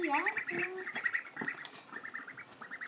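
Ducks quack and chatter in a busy, overlapping series of short calls, nearby and moderately loud, with a few higher squeaky notes mixed in.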